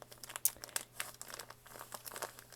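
Crinkling paper sound from a junk journal made from a mailer envelope, a quiet, close run of uneven crackles and rustles as it is handled.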